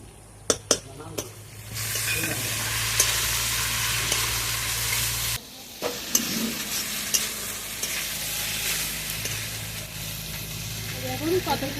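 Potatoes and jackfruit seeds frying with a mustard and green chilli paste, a steady loud sizzle with spoon scrapes and a few sharp knocks, briefly interrupted midway before the frying resumes.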